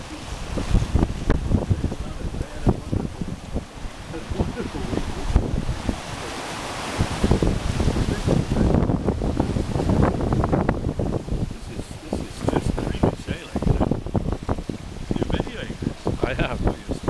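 Steady wind buffets the microphone while waves wash and slap against the hull of the yacht Streaker sailing on the Firth of Clyde. The rushing noise is loud and continuous, with voices breaking through now and then.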